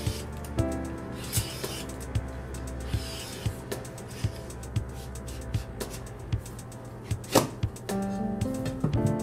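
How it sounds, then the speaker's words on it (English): A butternut squash is peeled in a series of short, regular scraping strokes, each a soft crisp rasp, repeating about once a second over quiet background music. "here I've got a butternut squash that I'm going to peel"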